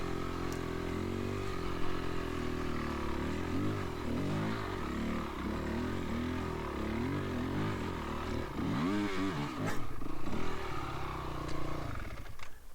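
A trail motorcycle's engine growls and revs hard while it climbs a steep section of the Garden Valley Airline trail, with rising and falling throttle bursts and a sharp rev near the end, loud and close, no talk.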